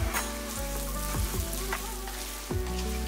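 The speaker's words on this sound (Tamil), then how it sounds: "இப்போ நான் ஒரு 250 ml அளவுக்கு கோதுமை ரவையை இந்த நெய்லயே போட்டுறலாம் ஸ்லோ ஃப்ளேம்ல வச்சிட்டு" Wheat semolina roasts in ghee on a slow flame for kesari, crackling with a soft, continuous sizzle and a few scraping stirs, and nobody speaks.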